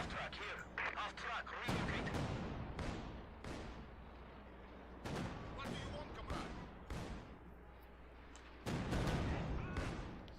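Mortar shells pound an enemy base in the World War II strategy game Company of Heroes 2, heavy booms and gunfire bursting at irregular intervals, with someone talking over the battle.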